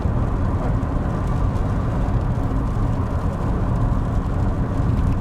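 Engine of a restored Audi Coupe GT droning steadily from inside the cabin, a dense low rumble with no clear rise in pitch, loud and continuous throughout with no talk.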